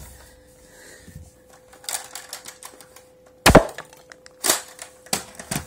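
Nerf blaster darts fired at a Styrofoam target: several sharp snapping impacts with a loud crack mid-clip, followed by lighter clicks and taps of handling, with no talk.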